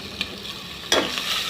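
Chicken fries in oil with a soft, continuous sizzle, and a short scraping stir bursts up midway through this brief moment.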